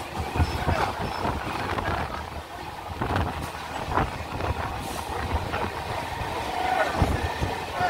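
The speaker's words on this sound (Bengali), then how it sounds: "সামনে একটি লোকাল ট্রেন আমাদের বারুইপাড়া লোকাল ট্রেনটিকে ওভারটেক করছে বন্ধুরা" A local train running on the Sealdah–Baruipara line while another local overtakes it: a continuous rolling rumble with scattered rattles and knocks, with faint voices mixed into the din.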